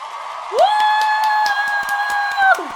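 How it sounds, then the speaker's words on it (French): Crowd noise with cheering and scattered claps at a gala for influencers and content creators, a loud sustained shout or sung tone riding over the crowd for a couple of seconds. "je veux qu'on applaudisse, qu'on crie une vague d'amour pour les personnes en situation d'itinérance ce soir à travers le Québec."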